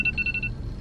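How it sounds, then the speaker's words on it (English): A phone alarm ringtone chirps in a quick series of short bright electronic pulses, heard inside a car parked in a Dunkin' Donuts driveway, over a low rumbling background. "that's my alarm telling me to clock in"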